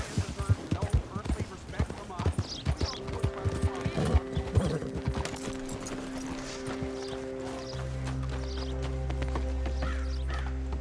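Rhythmic hoof clip-clops from horses in Red Dead Redemption 2 dominate the first half, then give way to a steady low drone with faint music.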